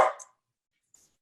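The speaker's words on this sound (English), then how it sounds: "that's my dog" A pet dog gives one short, sharp bark close by at the very start, followed by silence.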